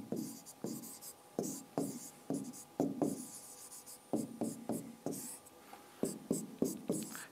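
Chalk or marker strokes on a board during a maths lesson come as a rapid series of short scratchy marks in bursts with brief pauses, close and fairly quiet.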